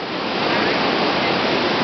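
A waterfall in Hala-Bala, Thailand, roaring nearby, a loud, steady rush of falling water with no pauses.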